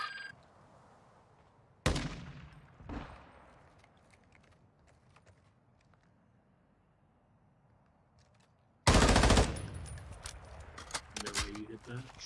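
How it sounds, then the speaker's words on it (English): Computer-controlled soldiers exchange fire in Warzone 2.0, with a loud burst of gunfire early, a second shot soon after, then a long heavy volley near the end over quiet background. "there's AI shooting at each other"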